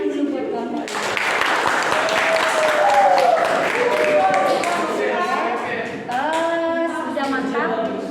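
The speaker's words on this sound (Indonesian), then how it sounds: "Tepuk tangan dulu buat kelompok." A class applauds a student group after a project presentation, a sustained burst of clapping that rises after a brief voice, with cheering and talking voices blended over it throughout.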